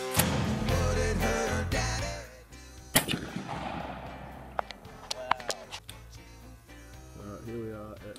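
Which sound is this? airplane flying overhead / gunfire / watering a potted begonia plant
gunfire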